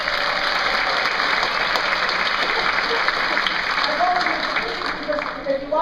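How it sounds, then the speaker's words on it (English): An audience applauds steadily at a keynote talk, a dense wash of clapping that fills the room, tapering slightly toward the end. "can you all give an applause to my superiors?"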